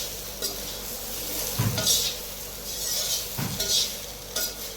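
Oil sizzles softly in a pan as a quick Uttar Pradesh-style breakfast snack fries, with a few metallic clinks and scrapes of a utensil stirring against the pan over a low steady hiss.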